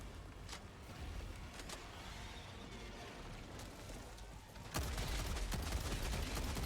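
Rapid gunfire from the co-op shooter Helldivers 2 during a bug breach, a steady rattle of bursts that jumps louder in the final couple of seconds, dense and continuous with no voices.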